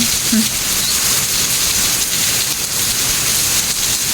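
Rain pours down in Singapore as a constant, loud, broadband hiss, with a faint brief sound near the start, otherwise unbroken and free of speech.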